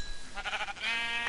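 A sheep bleats in the Minecraft video game, a single short wavering call, close and clear, over faint background noise.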